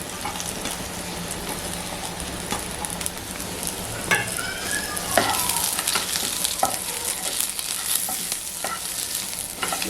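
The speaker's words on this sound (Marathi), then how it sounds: "चांगलं असं स्लो गॅसवरच परतून घेते" Onion, grated coconut and tomato sautéed and stirred in a pan over low gas flame for a jackfruit vegetable dish, giving a steady soft sizzle with scraping stirring strokes throughout, close and moderate.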